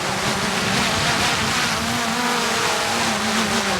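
A DJI Mini 4 Pro drone lifts off in windy conditions, its steady propeller whine humming beneath a continuous rush of wind noise throughout.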